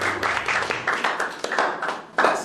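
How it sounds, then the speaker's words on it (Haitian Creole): A small crowd in a Haitian film claps and applauds, with bursts of close, uneven hand claps that swell and fade in several waves across the short stretch, without talk over them. "Si nous content ouais, applaudis-moi."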